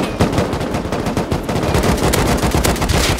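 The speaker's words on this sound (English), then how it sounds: "They're sniping us. They're shooting rockets at us" Dense, rapid gunfire rattles nonstop in the survival game Rust, a loud close barrage of overlapping shots with heavy impacts running the whole time.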